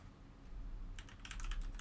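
Quick bursts of typing on a computer keyboard, a cluster of light clicking keystrokes in the second half over a quiet low background hum.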